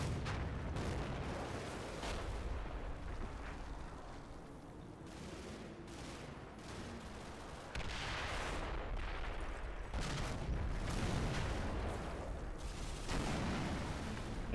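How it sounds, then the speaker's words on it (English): Mortar shells land in a war game as repeated dull, distant thuds and booms, irregularly spaced and fairly faint, under a continuous low rumble with no talking. "Yeah, definitely see cheeky mortars landing here on the reverse slope."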